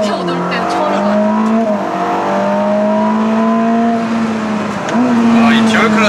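A 1000-horsepower Ferrari SF90 Stradale with a dual-clutch gearbox cornering at night on the Yongin track, its loud, close engine note holding steady between quick downshifts that sharply shift the pitch.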